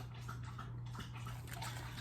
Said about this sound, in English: my dog is slopping water